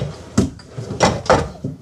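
A pull-out drawer in a Jayco Northpoint 365RKTS RV slides along its runners with a few wooden knocks and rattles, close by, in short bursts.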